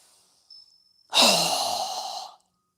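A deep breath during yoga: a faint short inhale, then a long, loud breathy exhale like a sigh lasting over a second, close to the microphone with silence around it.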